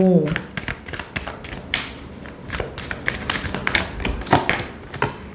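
Tarot cards are shuffled by hand in a quick series of crisp taps and riffling flicks, close and fairly loud, with a few louder snaps in the second half.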